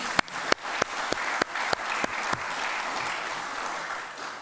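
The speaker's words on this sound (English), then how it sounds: "Let's give them another round of applause." Audience applause for a Rear Admiral and his envoy at a Pacific island legislators' general assembly, opening with a few sharp claps that swell into sustained, dense clapping and hold steady to the end.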